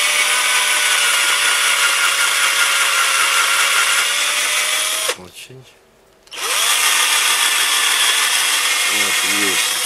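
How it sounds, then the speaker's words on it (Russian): A cordless drill whines loudly and continuously, stops briefly for a moment, then resumes grinding steadily through lead in a fishing sinker. "я буду сверлить в дне через всю его толщу"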